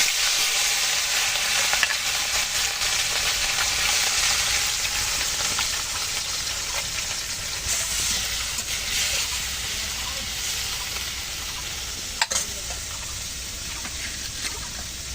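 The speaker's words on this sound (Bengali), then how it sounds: "আমি এখন মাছগুলো দিয়ে দিচ্ছি। প্রথমে পুঁটি মাছগুলো রান্না করে নেব, এগুলো দিয়ে দিচ্ছি, আগে একটু ভেজে নেব।" Small puti fish frying in hot oil, a dense continuous sizzle heard close, with a brief clatter near the end.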